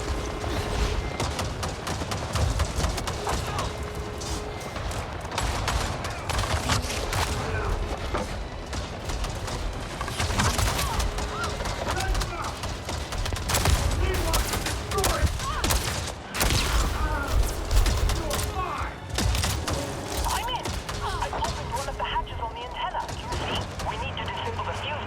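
Video game gunfire crackles in repeated bursts and volleys over a busy mix of mechanical clicks and game noise, running continuously throughout with a player's voice talking over parts of it.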